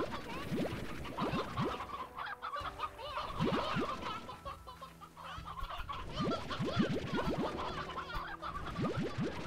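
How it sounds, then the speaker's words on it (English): Chickens in the video game Slime Rancher cluck continuously in an overlapping flock, with busy rhythmic calls and occasional scratching in a moderate, steady chorus without talk. "We should get some chickens from Mochi before we go down there"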